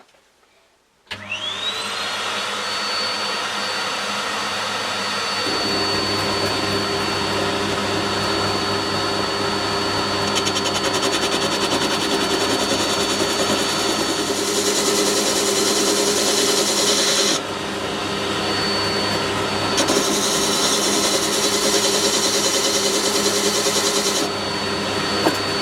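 A power tool sands a guitar bridge during a first guitar build, its steady motor whine running continuously and loud, with the pitch and texture shifting slightly as pressure on the wood changes.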